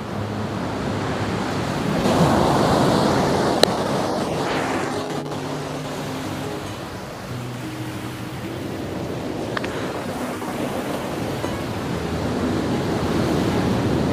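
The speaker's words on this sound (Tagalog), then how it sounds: "Sobrang lakas ng alon." Strong sea waves wash steadily onto a remote beach at General Nakar, Quezon, a continuous loud surf roar with swelling surges and wind buffeting the mic, with no talk.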